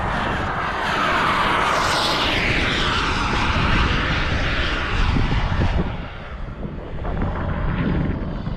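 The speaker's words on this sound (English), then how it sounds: "You know that Sportix can't beat that jet." Radio-controlled model jet airplane flying at an airplane show, a steady loud engine roar with a sweeping pitch that shifts as it passes, dipping briefly near the end, with no talk.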